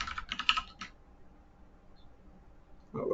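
Quick bursts of keystrokes on a computer keyboard as a file name is typed, a short flurry of close clicks followed by quiet and a final louder key press, likely Enter.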